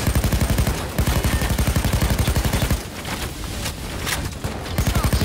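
Automatic AK-17 rifle fire in a video game, rapid steady bursts of shots, a short pause, then more fire amid game sounds, loud and close, with no talking.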